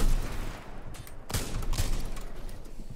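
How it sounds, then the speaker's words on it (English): Charge rifle fire in the video game Titanfall 2, a couple of sharp blasts in the middle of dense ongoing gunfire and game noise. "I can see the enemy pilot using charge rifle on me"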